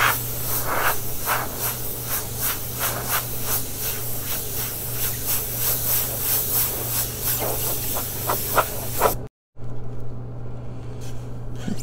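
An airbrush sprays paint onto a ball helmet in a steady, close hiss pulsing with short bursts, then cuts off abruptly before resuming more quietly; no talking.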